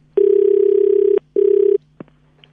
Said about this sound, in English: Just let it ring off, and then we'll call back.